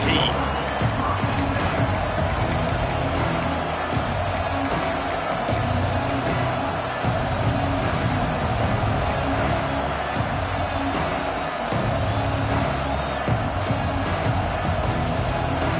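A large stadium crowd at a college football game against South Carolina keeps up a steady, loud roar, with a commentator talking over it throughout.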